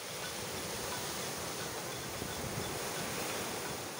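Surf washes steadily onto a beachfront in General Nakar, Quezon, a constant broad rushing roar of waves mixed with some wind, with no voices.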